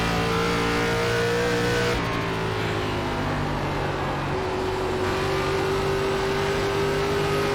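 A race car engine in iRacing at Rockingham Speedway in an ARCA Series race drones loud and continuous, holding a high steady pitch that shifts slightly as the throttle is worked, with no talk over it.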